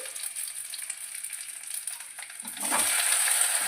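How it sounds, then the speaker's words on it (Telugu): Green chillies frying in oil in a pan for Andhra-style pulagam, a soft steady sizzle that swells into a louder, brighter crackle near the end as more is stirred in. "నిదానంగా వేసుకున్నాము పచ్చిమిర్చి వేయిపోయాయి కదా ఇప్పుడు"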